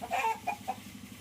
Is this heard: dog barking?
no